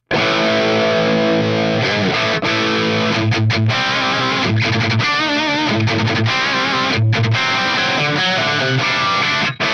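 Heavily distorted electric guitar through a FAS AX8 amp modeler, master volume set post phase inverter, plays continuous chords and riffs, loud and saturated throughout, with no pauses.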